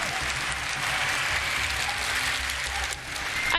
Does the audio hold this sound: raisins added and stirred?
no